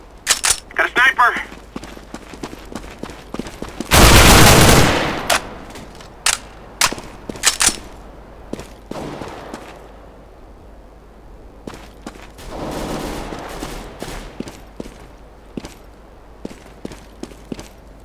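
A decoy grenade in CS:GO fakes gunfire with scattered sharp shots in irregular bursts. A loud, noisy blast sits near the start, and spaced pops and clicks continue throughout under occasional game radio voices.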